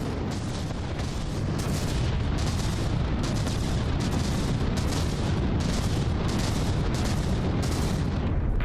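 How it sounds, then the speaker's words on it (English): Project Broadsword weapon fire in From the Depths: heavy frag-damage cannons booming in a continuous rhythmic barrage, regular loud thuds over a constant roaring battle din. "the Project Broadsword is really providing some good continuous frag damage firepower there"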